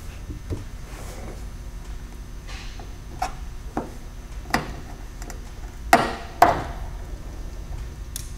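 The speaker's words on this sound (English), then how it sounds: "pry up on the far end to remove it from the wiper arm stud" Pry tool working spring-loaded wiper arms off the studs of a 1973-1987 Chevy truck, a series of sparse sharp clicks and knocks, growing louder toward two firm snaps near the end, no voices.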